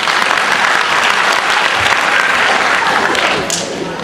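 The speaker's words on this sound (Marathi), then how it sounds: "सगळ्यांसाठी टाळ्या वाजवल्या." A large indoor audience claps in a dense, sustained burst of applause, loud and close, tapering slightly toward the end, with some voices mixed in.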